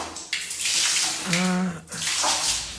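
Water splashes and pours while a dog is bathed, loud sloshing and running water in close bursts with a brief gap between them.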